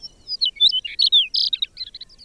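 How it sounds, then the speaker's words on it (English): Chestnut-collared longspur song from the northern Great Plains: a brief, lively jumble of sweet, warbling high notes and quick slurs, close and clear with no other sounds around it. "the chestnut-collared longspur,"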